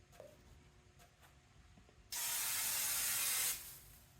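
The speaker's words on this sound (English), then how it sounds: "just spray the fuck out of the floor" A spray paint can hisses steadily for over a second as it coats the floor of a Subaru GC8 engine bay, loud and close after faint background noise.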